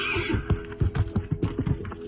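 A horse whinnies and hooves clop in a quick, steady rhythm of close, loud hoofbeats on the ground, set in Kyrgyzstan.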